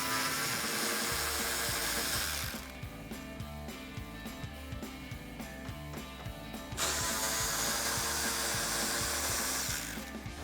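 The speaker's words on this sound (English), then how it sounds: "So I'm going to take my 10mm socket on my ratchet and remove those" A ratchet fitted with a 10mm socket clicks rapidly and evenly, close by and loud, as it backs off nuts on the inside of a 2005-2009 Mustang bumper.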